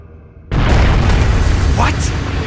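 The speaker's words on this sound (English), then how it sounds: "What? A bomb?" A bomb goes off in The Legend of Heroes: Trails of Cold Steel with a sudden, loud, booming blast that cuts off a quiet stretch and rolls on as a dense roar, with voices faintly underneath.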